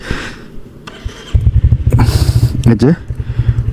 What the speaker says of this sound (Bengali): রয়্যালের সকালের সাউন্ডটা